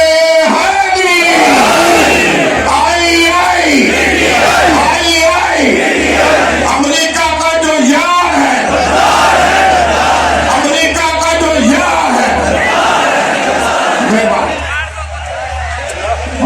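A large political rally crowd in Multan roars slogans in rhythmic call-and-response bursts, a loud massed chant repeating every couple of seconds over a steady amplified hum, ending in a sudden drop.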